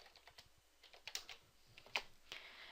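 Quick, light taps on a computer keyboard, irregular keystrokes close and fairly quiet with no talking.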